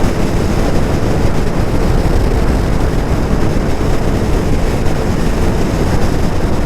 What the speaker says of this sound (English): On 43, tons of wind.